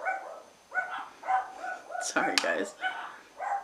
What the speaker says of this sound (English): Oh, there go my dogs.